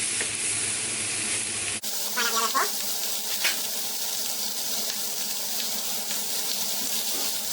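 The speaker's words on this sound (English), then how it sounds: "after frying the pork chops" A steady, hissing sizzle of pork chops frying in a pan, with a brief clatter near the start and faint kitchen noises.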